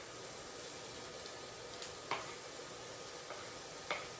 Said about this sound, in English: I already have 2 tablespoons of olive oil cooking in here, and to that I'm going to add 1 diced jalapeno pepper, 1 diced onion